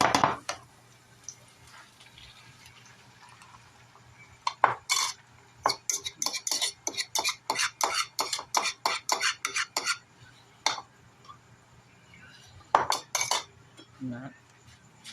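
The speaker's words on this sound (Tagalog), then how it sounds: "Then sagol na nato ang itlog o ang sardinas." Egg and sardines are stirred together in a cooking pot with a spoon. Close, rapid, rhythmic clinks come in bursts with short pauses between them.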